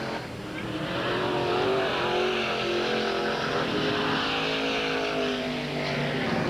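Late model race cars roar around Ada Raceway in 1987, a steady, loud blend of engines from the pack with a passing surge of tone and no pauses.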